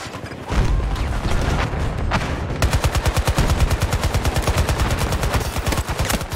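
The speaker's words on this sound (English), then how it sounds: "I shot that guy so much" Heavy gunfire in Battlefield 2042 opens with a dense roar and then settles into a rapid, steady automatic rhythm of close, loud shots that runs to the end.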